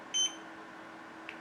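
A short electronic beep sounds once as the timer button is pressed on a small HONMICON mini dehumidifier, a bright clear tone standing alone over a quiet hum, followed by a faint tick.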